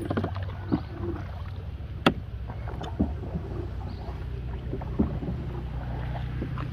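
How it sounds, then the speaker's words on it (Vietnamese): A rowboat on a rural Mekong Delta waterway in Dong Thap, Vietnam, being rowed upstream against the current, with soft water sloshing, occasional sharp oar knocks and steady wind noise, no talking. "Bơi nước ngược này mệt à"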